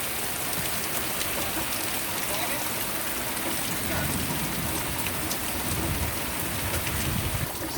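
Steady rain pours down over an open field across from a house, a dense continuous hiss of drops hitting surfaces throughout, with a faint low rumble underneath.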